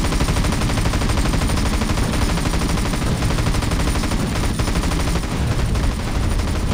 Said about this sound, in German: Ja, wir schießen einfach mal drauf los.